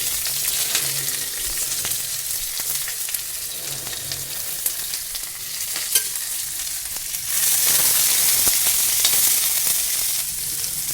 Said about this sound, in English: so I just need to like fry the onions